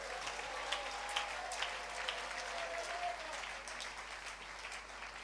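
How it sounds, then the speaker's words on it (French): A church congregation applauds and cheers for the Lord during a French-language sermon, steady sustained clapping from a large crowd with scattered shouts, fairly distant and even throughout. "Est-ce qu'on peut acclamer le Seigneur?"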